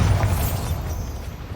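A Bombarda spell going off in Hogwarts Legacy, heard as a heavy low boom that rumbles and decays steadily over a second and a half with no voices.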